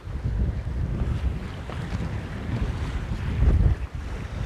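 A sailboat under full main with the headsail reefed, tramping along in a fresh breeze off Martinique, with steady wind rush across the microphone and waves sloshing against the hull, continuous and fairly loud, no voices.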